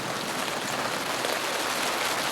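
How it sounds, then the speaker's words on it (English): Light rain starts falling outdoors in Australia, a soft, even hiss across the brief moment with no distinct individual drops. "It's starting to rain."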